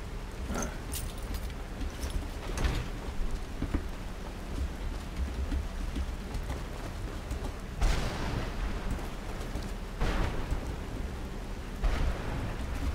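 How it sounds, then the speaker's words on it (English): Steady rain pours throughout a storm in the video game Skyrim, with several loud, booming thunder cracks rolling in at intervals over the constant hiss. "Sorry about the storm."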